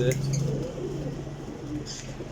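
A black-faced pigeon coos softly at close range in a short, low throaty call, while someone talks nearby over it.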